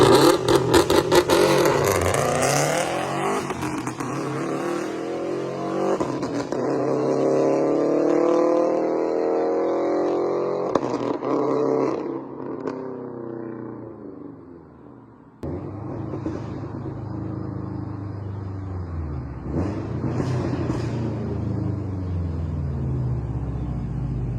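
A 2011 Subaru STI with a 3-inch turbo-back straight pipe exhaust revs and accelerates hard, a loud raspy engine note climbing through gears, dropping off, then rising again close to the microphone.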